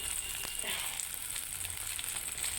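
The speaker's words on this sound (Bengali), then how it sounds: "বেগুন ভাজি করে নিচ্ছি" Eggplant (brinjal) slices frying in a pan of oil, giving a steady, close hiss of sizzling that runs unbroken from start to finish with no voices.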